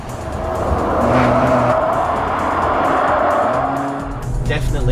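Car cornering hard at around 100 mph through a right-hand bend on a race track, a loud sustained engine drone with faint tire scrub, steady and close throughout.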